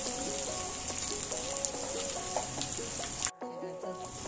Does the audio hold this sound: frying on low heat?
yes